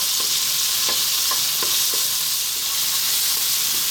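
Chopped garlic and onion frying over lively heat in a pan give a loud, continuous sizzling hiss, broken by several sharp scraping clicks as a utensil stirs them, with no talking.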